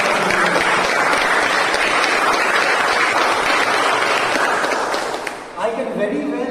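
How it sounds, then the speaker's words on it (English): A round of applause from the audience at a club meeting, dense sustained clapping that fills the room loudly before tapering off near the end. "Could we have a round of applause for each of them?"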